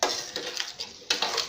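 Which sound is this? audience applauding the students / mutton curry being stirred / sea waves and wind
mutton curry being stirred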